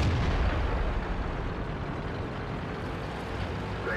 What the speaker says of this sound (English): hopefully artillery will shoot your T-95